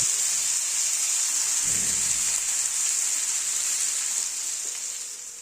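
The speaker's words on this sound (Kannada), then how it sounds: "ಕರಿಬೇವು ಸೊಪ್ಪು, ಮ್ಯಾರಿನೇಟ್ ಮಾಡಿರೋ ಫಿಶ್ ಹಾಕಿ ಚೆನ್ನಾಗಿ ಫ್ರೈ ಮಾಡ್ಕೊಳ್ಳಿ" Marinated fish and curry leaves fry on a hot tava with a loud, continuous hissing sizzle and a brief low stir partway through, heard alone and easing slightly at the end.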